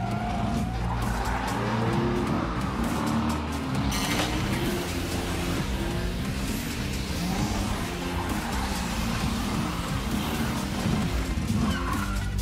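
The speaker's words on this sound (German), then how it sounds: "Also das Pedal durchtreten und wie die Irren losfahren?" Cartoon Hot Wheels car flooring it and speeding off, loud racing engine roar with squealing, skidding tires running continuously and close up, without talk.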